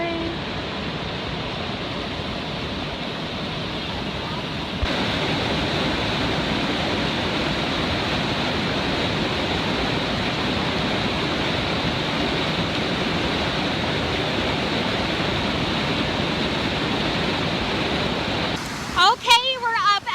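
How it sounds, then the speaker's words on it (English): A waterfall at Bighorn roars in a steady, dense wash of falling water, close and constant throughout, with a brief disturbance at the very end. "we're up at the waterfall"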